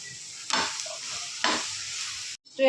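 Curry leaves and ginger frying in a spoonful of hot oil in a kadai, two sharp bursts of sizzling as they go in and are stirred, then a steady crackle that cuts off briefly at the end.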